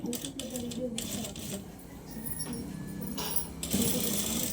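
A sewing machine stitches along a blouse neck, its rapid mechanical whir running steadily throughout beneath a speaking voice.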